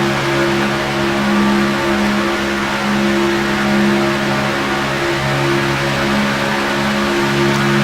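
Race cars drafting at speed, with a steady loud engine drone as one pulls out and accelerates past another, the roar sustained and close without any voices.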